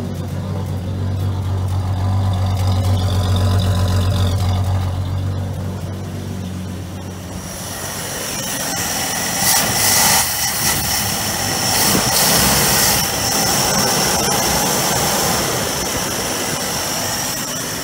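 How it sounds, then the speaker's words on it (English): A Chrysler Valiant VG Hemi engine, revived after being abandoned, runs close by with a deep rumbling idle, then revs up into a louder, rougher roar with surging peaks. "We have hemi noises."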